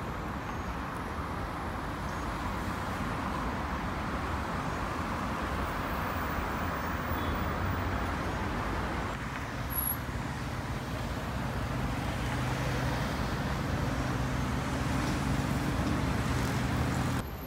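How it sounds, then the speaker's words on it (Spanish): Dense traffic on Avenida 9 de Julio in Buenos Aires, a continuous broad roar of cars and heavier vehicles passing nearby with no pauses, steady in loudness throughout. "Como veis, todo tráfico aquí a mi lado"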